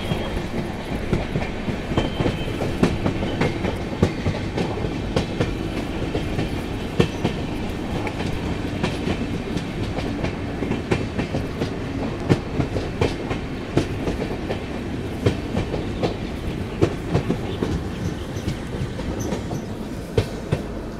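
A Shatabdi Express train running on the Mysore route, heard from inside the carriage: a steady loud rumble of wheels on rails with continuous rhythmic clickety-clack over the joints, sustained throughout with no talking.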